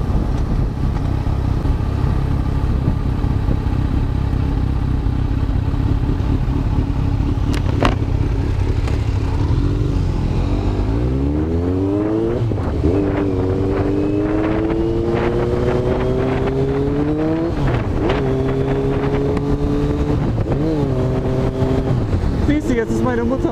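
A motorcycle ride on the road with a mother riding her own bike just ahead; the engine drones loud and steady under heavy wind noise, then its pitch climbs through several gear changes as it accelerates.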